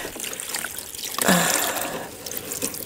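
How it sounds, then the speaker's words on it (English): Water splashes out of a container dumped onto the ground during an outdoor yard cleanup, a short close burst of pouring and splattering amid light background noise. "Dump the water out."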